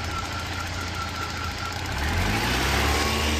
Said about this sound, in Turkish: Çalışan arabaya biraz gaz verirsek böyle bir durumda.